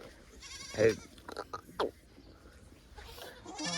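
A young goat on a farm lets out a few short, close bleats, the loudest near the start, with quieter animal noises and faint background sounds around them.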